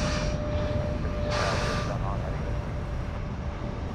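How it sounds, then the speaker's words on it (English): A FedEx Boeing 777 freighter jet departs at night from Sydney Airport, a steady broadband engine roar filling the background throughout, with people talking over it. "The 777 departing there with the FedEx"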